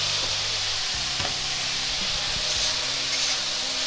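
Shredded cabbage frying in a pan as chili powder is stirred in, giving a loud, continuous close-up sizzle with faint stirring knocks underneath and no voices.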